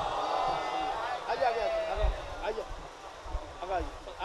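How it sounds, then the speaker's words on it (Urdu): An audience at a book launch ceremony during a Jashn Elan-e-Ghadeer celebration chants salawat in welcome: many voices rise together in a loud, rhythmic crowd chant with swelling waves, over room murmur. "آپ حضرات بلند ترین نعرے صلوات سے خیر مقدم فرمائیں۔"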